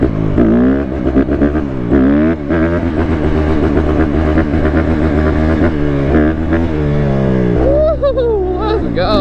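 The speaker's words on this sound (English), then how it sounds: "It's insane how much much torque this freaking bike has, bro." A 150 dirt bike engine revs hard while mudding, loud and close, with rising and falling pitch sweeps across repeated throttle bursts and a steady roar underneath.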